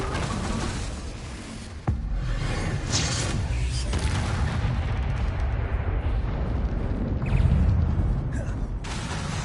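Confringo blasting spell going off in Hogwarts Legacy: a dense, roaring burst with a sharp crack near two seconds, then rumbling fire-like noise that swells again toward the end, loud and continuous with no speech.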